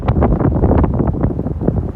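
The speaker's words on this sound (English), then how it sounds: "it's windy out here" Strong gusts buffet a microphone at a roadside turnout during a trucking run, a continuous loud low rumble with no talk.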